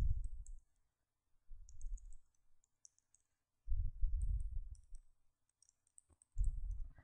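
Computer mouse clicks and keyboard typing come in short, close bursts separated by brief silences, with faint high clicks between the heavier thumps.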